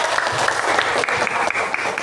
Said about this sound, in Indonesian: Kita beri tepuk tangan dong.